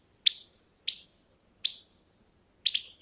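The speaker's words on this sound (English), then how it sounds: "another recording of a house wren alarm that's more like the typical wren alarm" A house wren gives four sharp, high, buzzy alarm notes spaced about half a second to a second apart, the last one doubled, each clear and close against a quiet background.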